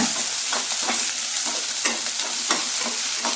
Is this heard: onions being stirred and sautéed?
yes